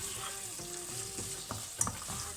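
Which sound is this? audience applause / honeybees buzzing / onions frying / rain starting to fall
onions frying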